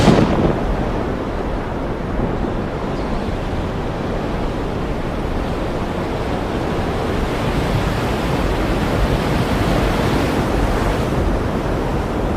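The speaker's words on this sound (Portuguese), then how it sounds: "A beleza do movimento do mar." Stormy sea with steady wave surf and wind, a dense continuous broadband roar at even loudness throughout, no distinct breaks and no voices.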